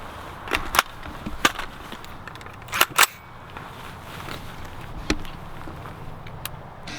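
Several sharp rifle shots from an ADM UIC Mod3 rifle fitted with a Surefire SOCOM556-RC2 suppressor, scattered across the stretch with two close pairs, fairly near and alone with no talking.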